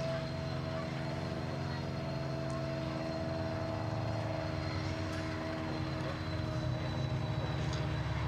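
A Khalid main battle tank rolls past in an arena, its engine producing a steady, loud droning rumble with strong low harmonics that holds throughout and swells slightly toward the end.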